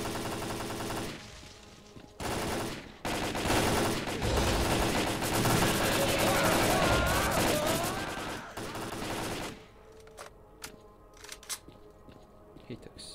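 Sustained automatic gunfire from the S.T.A.L.K.E.R.: Clear Sky video game rattles loudly for several seconds in dense bursts, then drops away to scattered faint pops and quieter ambience.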